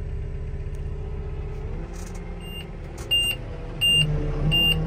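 A telehandler's overload warning beeps repeatedly at a high pitch in a regular rhythm over the low rumble of its engine, with the machine raised high while loading manure.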